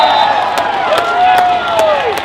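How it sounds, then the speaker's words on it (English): Hockey crowd at a Premier League men's grand final roaring and whooping after a goal, with steady broad noise and shrill whistle-like cries across the whole stretch. "to send their section of the crowd into wild cheers"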